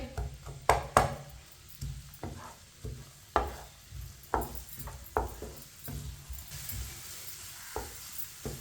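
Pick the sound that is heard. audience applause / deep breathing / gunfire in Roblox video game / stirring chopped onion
stirring chopped onion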